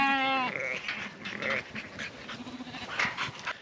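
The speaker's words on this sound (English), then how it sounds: "We have the sheep in." Cheviot ewes and lambs penned together, with one clear bleat at the start followed by scattered shuffling, breathing and fainter calls from the flock at close range.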